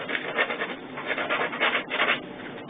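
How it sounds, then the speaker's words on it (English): Steady abrasive rubbing of sandpaper on a hard cosplay helmet, close and continuous with gentle swells in intensity, no voices. "Sanding down all this."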